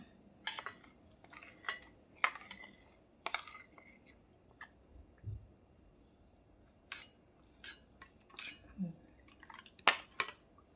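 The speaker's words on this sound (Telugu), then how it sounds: "ఇదిగోండి, పాలైతే మరగడం స్టార్ట్ అయ్యాయి" Milk starting to boil in a pan on the stove for a chilled fruit salad: faint, scattered popping and ticking bubbles come at an irregular pace over a quiet background.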